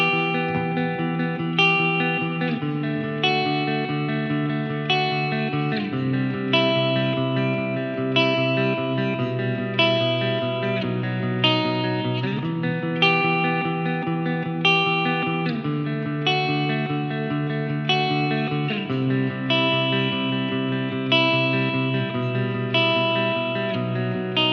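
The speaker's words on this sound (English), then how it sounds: "Now we'll just hear that middle position because I feel like that's where this sits best for clean tones." Spira S-407 electric guitar on a clean tone in the middle pickup position, playing sustained ringing chords that change every few seconds, close and alone, with no talk.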